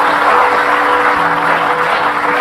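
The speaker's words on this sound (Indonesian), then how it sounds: "kasih tepuk tangan dulu buat mereka." A studio audience at a Hitam Putih talk show applauds, a steady wash of clapping under a constant tonal hum from the studio.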